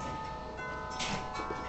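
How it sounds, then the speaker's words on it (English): Wind chimes sway in gusts ahead of a rainstorm, faint metallic tones ringing softly and continuously with a slightly brighter cluster of chimes near the middle, heard from a distance with no talking. "all my chimes are just being blown here, there, and everywhere"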